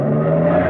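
A truck motor starts and revs steadily, a loud, close engine drone with a low rumbling hum sustained throughout the short burst, staged as a radio drama effect.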